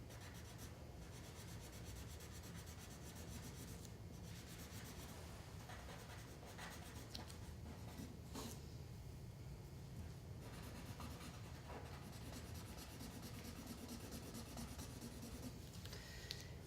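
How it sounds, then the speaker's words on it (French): A fine blending stump rubs across paper while shading a drawing, making soft, close, continuous scratchy strokes with brief pauses, quiet and alone. "je peux travailler avec l'estompeur un peu plus fin"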